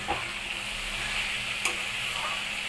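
Boiled banana flower, cooked with salt and turmeric, sizzles steadily as it is stir-fried in a pan, with a soft continuous fry and occasional light scrape of the spatula.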